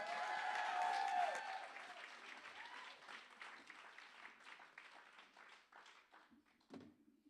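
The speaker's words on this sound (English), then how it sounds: "So can we have a massive round of applause" An audience applauds at a live music venue, The Bedford. The clapping is loud and full at first, then thins and fades over several seconds into scattered claps.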